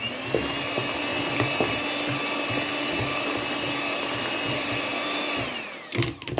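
An electric mixer whips chocolate roll batter with a loud, steady motor whine and grinding churn close by, then winds down and cuts off near the end with a few clattering knocks.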